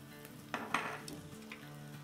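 Masoor pulao stirred in a pot after salt goes in, with faint sizzling and a few soft spoon-against-metal scrapes and clinks, close but quiet.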